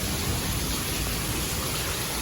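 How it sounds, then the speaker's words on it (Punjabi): Heavy rain pours down in a dense, constant hiss with no pauses, loud and close. "ਮੀਂਹ ਇੰਨਾ ਤੇਜ਼ ਨਹੀਂ ਪੈਂਦਾ ਜਿੰਨਾ ਮੀਂਹ ਇੱਥੇ ਤੇਜ਼ ਪੈ"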